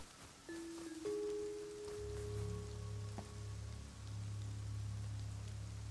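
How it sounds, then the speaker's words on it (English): Heavy rain in the video game Rust, a quiet steady hiss of falling rain throughout, joined by low humming tones and a few faint clicks, no voices. "Rain's coming down hard."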